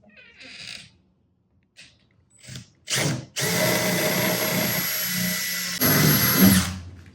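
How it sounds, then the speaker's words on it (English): A power drill bores through a truck door with a larger bit, first in a few short trial bursts and then running loud and steady for several seconds close by. "we're going to take this larger drill bit, and we're just going to be real careful here to go through the door part"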